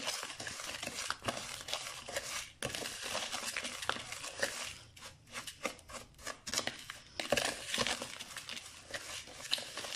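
Dishwasher tablet mixture is worked by hand in a bowl, making dry crinkling, scraping rustles in irregular bursts with brief pauses, close and fairly quiet.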